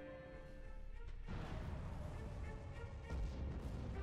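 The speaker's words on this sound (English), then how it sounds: "We'll do missile barrage." A missile barrage in the Sins of the Prophets strategy game bursts out as a dense, rumbling volley of booming impacts, swelling around the middle and peaking loudly near the end with no break.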